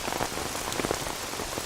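Steady rain falls on a surface, a dense close patter of drops that holds a constant level throughout, with no voices.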